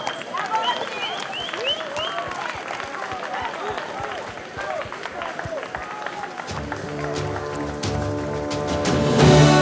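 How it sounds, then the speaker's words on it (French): Applause from a racecourse crowd greets the winning four-year-old Arabian mare returning after the Qatar Total Arabian Trophy, steady clapping sustained for several seconds before music swells in near the end. "Et la gagnante arrive sous les applaudissements d'ailleurs. Il y a beaucoup d'applaudissements"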